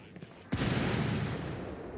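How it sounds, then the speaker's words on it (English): A big in-game explosion in the tactical shooter Ghost Recon Wildlands bursts in suddenly as a loud, broadband boom and then rolls on as a sustained rumbling roar that fades only slightly over the next second and a half. "Oh god, big explosion."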